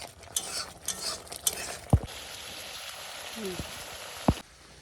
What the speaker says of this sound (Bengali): আমার মশলা কষানো হয়ে গেছে প্রায়, আর একটুখানি হবে।